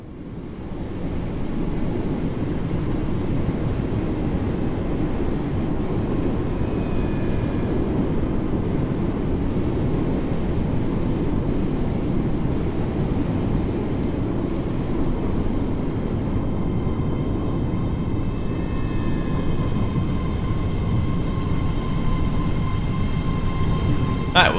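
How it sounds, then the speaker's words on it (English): A ScotRail class 385 electric train pulls into a station platform in Train Sim World 3, a loud, steady low rumble lasting throughout, with faint high squeals and tones rising near the end as it comes to a stop. "here comes our train on platform 10, the class"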